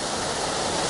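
Steady broadband rush of a waterfall pouring beside a reservoir on a bike outing, continuous and close, with no voices over it.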